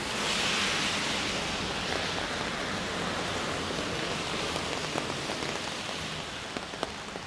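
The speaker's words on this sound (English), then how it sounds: "See, the rain's accumulating." Heavy rain pours steadily onto a North End street, a dense, even hiss of drops hitting pavement and running water, broken by a few sharper nearby splats, with no voices.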